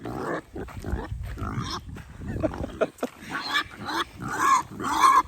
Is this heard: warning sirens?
no